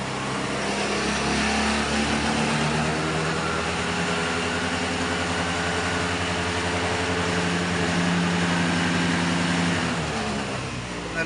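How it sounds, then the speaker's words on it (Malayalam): Honda Activa scooter engine with a replaced carburettor, steady and loud, idling and revving up and down close by throughout, with no talk. "സ്റ്റാർട്ട് ചെയ്ത് നമ്മൾ റേസ് ആക്കാണ്."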